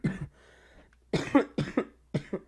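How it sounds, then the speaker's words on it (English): Several harsh coughs from one person indoors, a short burst, a pause, then three more bursts in quick succession, close and fairly loud with no talk. "Sorry for the coughing."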